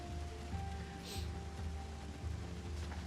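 Steady rain in a zombie survival game, a soft continuous patter of drops falling on surfaces, faint and even throughout.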